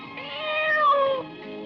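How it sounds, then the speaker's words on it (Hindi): A cat gives a single drawn-out meow, close and clear, rising then falling over about a second. "अरे बिल्ली क्या?"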